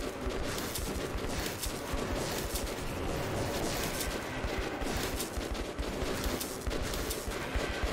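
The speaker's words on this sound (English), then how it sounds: "It's a rail gun." Rapid, dense gunfire from a late-game rail gun in the post-apocalyptic shooter Metro 2033, a continuous loud barrage of sharp bursts filling the whole stretch with no pauses.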